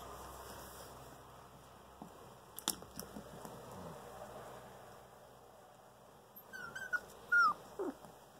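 Puppies whimpering and whining, faint at first with a few soft yelps, then sharper high-pitched cries toward the end in a quiet room.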